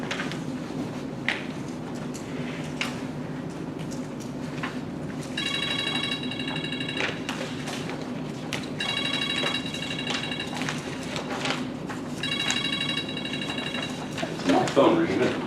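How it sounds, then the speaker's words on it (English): A telephone rings in three spaced bursts of electronic trilling, fairly faint, over a steady background hum with scattered knocks and bumps nearby. "Phone ringing."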